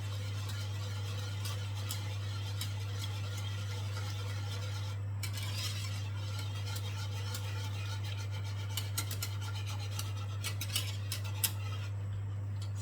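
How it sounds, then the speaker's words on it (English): Spoon stirring a milk sauce in a pot for a vegetarian zucchini and eggplant lasagne, with soft repeated scraping and clinking against the pan over a steady low hum from the stove. "Just keep stirring."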